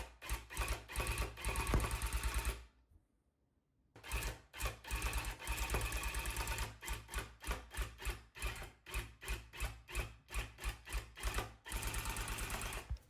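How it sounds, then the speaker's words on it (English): A rug tufting gun fires yarn through a rug backing in rapid mechanical bursts, loud and close, with a brief pause before the rhythmic shooting resumes in repeated runs. "Let me show you while it's shooting through the rug gun."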